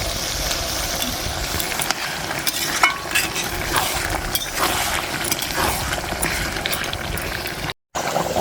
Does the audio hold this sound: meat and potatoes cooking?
yes